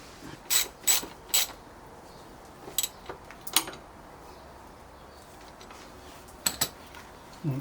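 A ratchet clicking as it tightens a lock nut on the front of an Africa Twin motorcycle, a few short bursts of rapid metallic clicks over a low background hum, close by.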